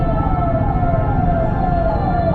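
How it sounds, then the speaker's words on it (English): An ambulance siren wails in repeating rising-and-falling sweeps over the loud low rumble of traffic, sounding close and continuous. "They're just right in front of the ambulance."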